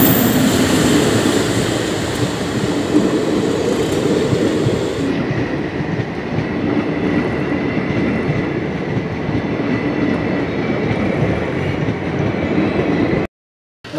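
A train rolls steadily past a railway level crossing at night, a loud continuous rumble and rattle of wagons that holds for most of the clip before cutting off near the end.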